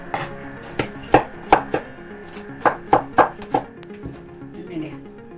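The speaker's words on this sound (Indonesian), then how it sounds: "Dan aku akan potong ini si bawang merah dan juga bawang putih." A knife chops shallots and garlic on a board for Korean fried chicken, with crisp close thunks in two quick bursts of several strokes separated by a short pause, then a few softer taps.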